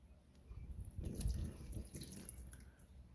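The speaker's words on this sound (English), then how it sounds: "Just saw the water, and it dripped right off, ran right off." Water poured over an air pre-filter wrap runs off and drips in a short splashing burst, near and moderately loud, with a few separate drops before and after.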